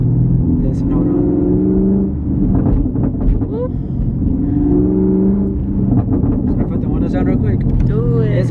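2017 Chevrolet Camaro SS with a Borla ATAK exhaust, revving loudly in repeated bursts with sharp popping on the overrun, nearby on a cold day while people talk over it.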